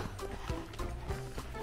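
Hooves of a 22-year-old endurance horse being ridden at a fast trot, recorded up close as a steady, quick clip-clop rhythm of four or five footfalls over a soft background.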